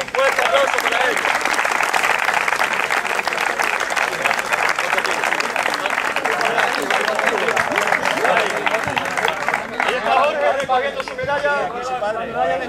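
Loud, sustained applause from a crowd at a youth promotional triathlon in Hinojosa, steady clapping filling the whole stretch with crowd chatter mixed in and a voice speaking near the end.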